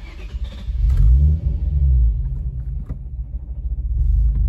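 A Nissan 350Z HR engine idles rough and dips as if about to stall, its low rumble sagging then recovering with uneven surges, close and loud with no talk.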